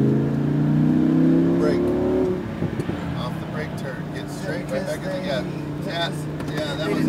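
Lamborghini Huracan V10 revving hard on a racetrack, pitch rising through a gear before easing off, with continuous loud engine drone and road noise under a voice giving driving instructions.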